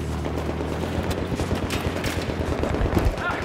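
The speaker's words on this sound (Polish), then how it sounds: "Słyszę jakieś strzały z tyłu." Rapid bursts of Battlefield 3 multiplayer gunfire crackle over a dense, noisy battle soundscape, loud and continuous with sharp shots scattered throughout.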